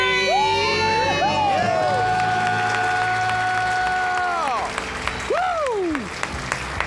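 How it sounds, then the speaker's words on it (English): A studio audience on a finance call-in show lets out a loud debt-free scream and cheering, with a few voices whooping and shouting together, sustained for several seconds before trailing off into scattered shouts and claps. "Let's hear a debt-free scream."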